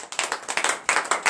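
A congregation claps in rapid, uneven bursts during a Tuesday morning prayer service in Comè, Benin, with loud, close, steady applause and no cheering voices standing out.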